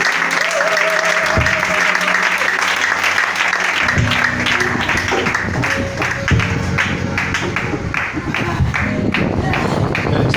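A church congregation applauds through a worship service, dense and continuous clapping near and loud throughout, with sustained tonal sounds underneath.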